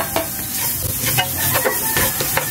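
Ginger and garlic frying in oil for Bicol Express, a close, busy sizzle broken by repeated scraping strokes of a spatula stirring the pan.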